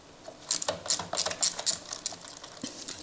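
A ratchet turning a 10mm socket to back out a bolt on a Honda CB1300 motorcycle, giving close bursts of quick metallic clicking in short uneven strokes with gaps between, no talking.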